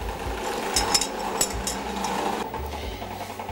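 A Thermomix runs at low speed with its heat set to 50 degrees, melting its contents. It gives a steady, close mechanical hum with a low rumble and a few faint clicks, and no voices.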